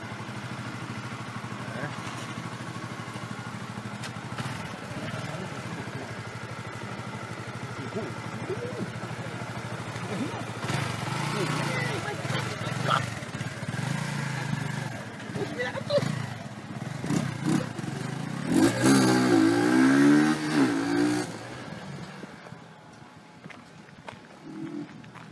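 A 2017 Benelli RFS 150i motorcycle idles and then revs as it rides around a parking lot nearby, growing louder toward the end before fading, with voices occasionally audible.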